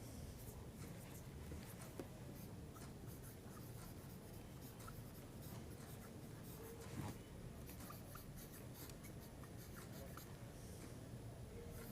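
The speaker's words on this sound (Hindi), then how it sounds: "तो यहाँ लिख देता हूँ मैं" Handwriting during a physics lesson, a faint steady scratching of pen on paper under low background hiss, continuous and close with no speech.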